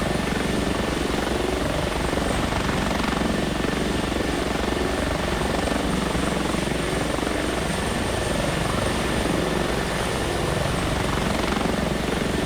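An H145 helicopter in the X-Plane 11 flight simulator gives a continuous, steady rotor and turbine drone at even loudness throughout, with no talking.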